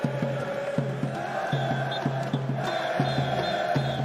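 Crowd at the CS:GO Rio Major 2022 esports event, a steady roar of chanting and cheering with rhythmic stamping or clapping beats, continuous and full.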